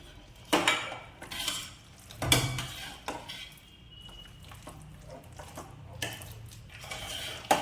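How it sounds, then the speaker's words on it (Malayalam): Boiled tapioca being mixed with onion and chilli in a pot makes repeated clattering scrapes and knocks of a utensil against the vessel, loud and close, in uneven bursts with quieter shuffling between and no voices. "ഈ ഉള്ളിമുളകും കൂടി ഇതിലോട്ട് നന്നായിട്ട് മിക്സ് ചെയ്യാം"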